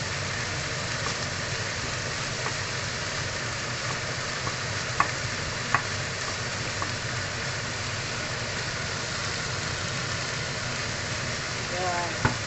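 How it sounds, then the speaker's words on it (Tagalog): Pork and noodles sizzle steadily in a frying pan, a soft continuous crackle with a few faint clinks of stirring, while someone talks quietly now and then. "Ihalo natin yung ating pork."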